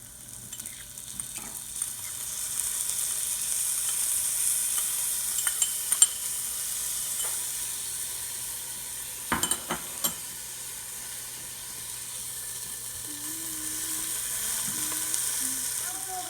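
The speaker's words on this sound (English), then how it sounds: "now that the onions are brown, we're going to put in some garlic and let it in there for 30 seconds" Garlic sizzling steadily in a pot alongside browned onions for venison shanks, a continuous soft frying hiss with a few faint utensil clinks and stirs, no voices.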